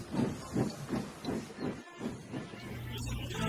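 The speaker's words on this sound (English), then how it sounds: "Stepney puffed steadily along his line." A steam engine puffs in even, rhythmic chuffs with a soft hiss running under them, then a longer sustained hiss of escaping steam toward the end.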